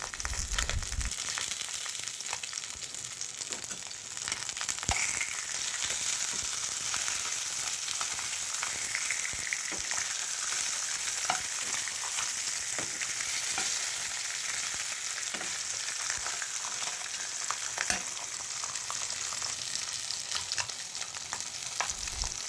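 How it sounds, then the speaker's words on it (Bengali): Steady hissing sizzle of katla fish pieces frying in hot oil, with occasional crackles and pops, close and continuous throughout without any talking. "এবার মাছের পিসগুলো দিয়ে ভেজে নেব"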